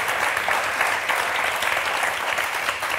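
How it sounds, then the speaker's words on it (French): A TV game show studio audience applauds the contestants with loud, sustained, even clapping from many hands, filling the whole stretch without a break. "Eh bien, on va vous applaudir très fort,"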